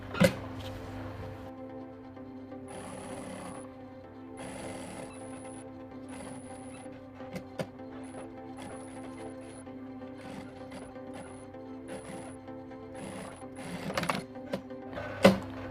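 A sewing machine stitches piping onto a high neck collar, running in several short bursts with a rhythmic mechanical whir, close and clear, with small clicks between runs.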